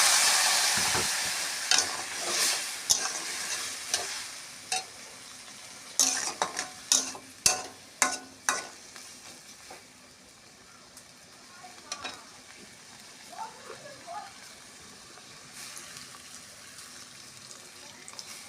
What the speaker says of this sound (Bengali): ভেন্ডি আলু ভাজা ভাজা হয়ে গেছে এবারে জল দেবো পরিমাণ মতন জল